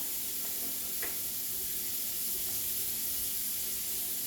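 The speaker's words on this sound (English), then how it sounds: "we're going to drop them in. And we're just going to let them simmer" Pork steaks fry in brown butter, a steady, even hiss of sizzling fat with a couple of faint taps near the start, close and uninterrupted by speech.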